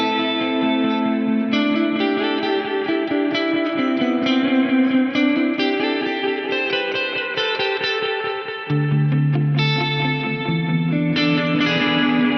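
Electric guitar through an Axe-Fx amp modeler with a British spring reverb, playing sustained distorted chords and ringing lines with a washy, echoing tail, loud and close without any voices.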